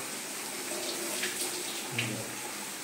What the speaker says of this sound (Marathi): पोह्याला धुता तुम्ही? धुवायला पाहिजे